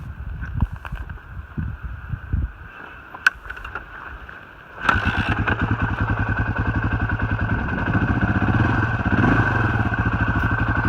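A 1991 Suzuki DR350S motorcycle is kicked over with the choke on and turns over a few times. Its engine then catches with a sharp burst and settles into a steady, loud, rapidly pulsing single-cylinder idle close by.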